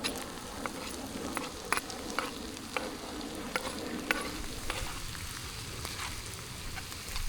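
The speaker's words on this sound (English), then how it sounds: "I could put one of these on the fryer and that will cook it up fairly nicely" Naan bread frying on a camp fryer in the woods gives a steady, moderately loud sizzle with sharp crackles and pops spread throughout, heard close and alone.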